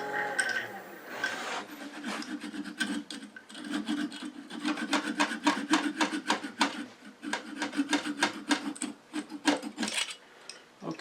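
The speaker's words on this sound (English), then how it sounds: "And now I think I'll use a flush cut saw to finish that." Rapid back-and-forth rasping strokes of a flush cut saw cutting through wood on a wooden baby rattle, steady and close, with short pauses between runs.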